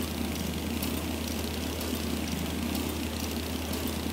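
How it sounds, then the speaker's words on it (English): A faulty boat engine in the video game A Short Hike drones steadily at a low, even pitch, a continuous mechanical hum with no breaks and no voices. "Is it just me, or does something not sound right? It's the engine."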